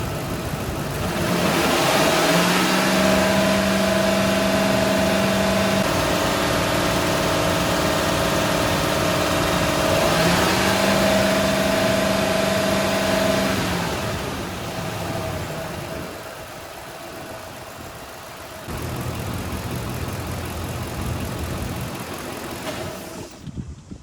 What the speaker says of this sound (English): I'm gonna get inside the vehicle, hit the accelerator pedal a few times